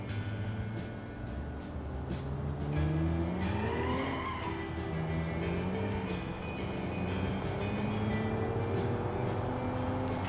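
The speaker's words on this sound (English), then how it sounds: "I hate the road noise. Should have gotten a louder engine." A car in the Automation video game drives with a droning engine whose pitch rises and falls through gear changes, over constant road noise and squealing tires.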